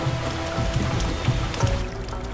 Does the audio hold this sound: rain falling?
yes